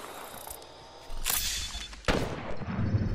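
Apex Legends gunfire comes as two loud, sharp bursts of weapon fire, each with a ringing tail, after a quieter stretch of low game ambience.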